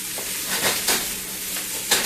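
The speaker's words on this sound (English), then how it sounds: "I'm going to go ahead and move these onions for, 45 seconds or so" Onions stir-fry in a wok for a cheap Chinese-style meal, giving a continuous sizzle with a few swishing tosses and scrapes. The sound is close and moderately loud, with no talk.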